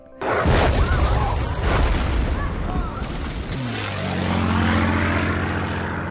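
A loud German WWII warplane engine roars overhead with a deep rumble, then settles into a steady low drone as it passes, with a heavy boom near the start.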